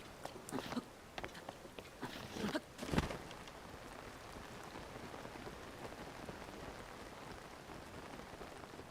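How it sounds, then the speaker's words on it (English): Rain falling in the video game LittleBigPlanet 3, a steady soft hiss of drops on surfaces, with a few sharper taps and a brief louder burst early on before settling into an even, quiet patter. "And it is raining."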